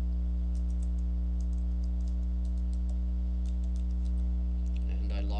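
A password is typed on a computer keyboard as a run of faint, quick keystroke clicks in small clusters over a steady low electrical hum.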